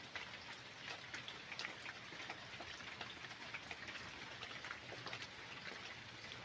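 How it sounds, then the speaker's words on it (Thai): Steady rain falling in a forest, a dense even patter of drops on leaves and surfaces, soft and continuous throughout. "ฝนตกออกไปเลาะบ่ได้"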